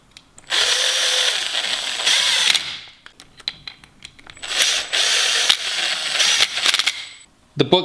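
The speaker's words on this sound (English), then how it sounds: "I just hand bomb them with a ratchet, and you could feel them." Tightening bolts on a Ski-Doo Gen 5 turbo clutch brings two loud, close bursts of rapid mechanical ratcheting, each a few seconds long, with small clicks and taps between them and little talk.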